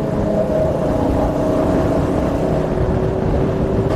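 A superbike's engine drones steadily while riding with a group of superbikes on a Sunday outing, a loud continuous roar with a faint steady whine running through it and no voices.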